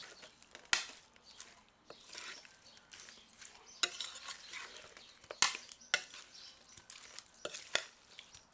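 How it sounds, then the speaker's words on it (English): Carrots and thyme sautéing in a HexClad wok: soft sizzle under repeated sharp scrapes and clacks of a utensil stirring against the pan, irregular bursts close by, fairly quiet overall. "I'm using my brand new hex-clad wok to saute some carrots first."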